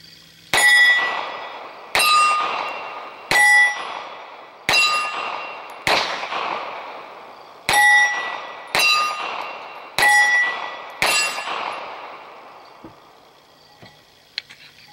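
Grand Power P1 Ultra pistol fired at steel targets, eight sharp shots in two groups of four, each followed by a bright ringing clang from the steel that decays before the next, with a few faint clicks at the end.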